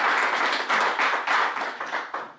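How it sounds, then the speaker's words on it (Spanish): A small church congregation claps during a Spanish-language worship service, giving a brisk, fairly close burst of hand claps that swells in uneven waves before tapering off near the end. "¿Cuánto le puede dar un aplauso al Señor?"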